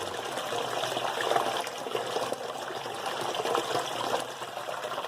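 Water pours steadily into an aquarium as it fills, a close, continuous trickling flow with a slight bubbling texture and no voices.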